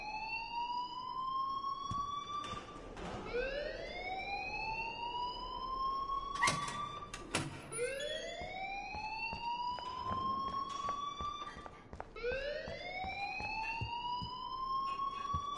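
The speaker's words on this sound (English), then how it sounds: "please turn off that alarm since that's your job" A rising, wailing electronic alarm in the video game Life is Strange sweeps upward over and over in repeated cycles. It is loud and steady, with brief clatters between some of the sweeps.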